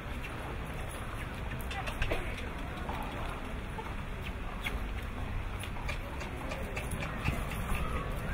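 A horse trotting at an obstacle-horse sale, with steady hoofbeats over a constant outdoor background and a voice speaking at times.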